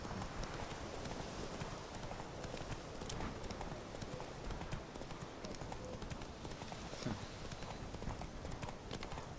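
Horse hooves clip-clop in a steady, quick rhythm at moderate volume in the video game The Witcher 3: Wild Hunt, continuing throughout without any voices.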